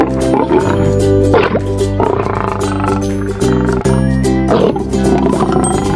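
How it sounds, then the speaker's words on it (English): A lion roars loudly and close, several deep rumbling bellows in a row, rising and falling with short breaths between them. "Lion."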